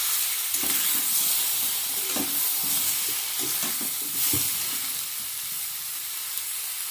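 Ginger and spices going into a hot pan for a vegetable curry, a soft steady sizzle with several stirring clinks and scrapes, alone without talk.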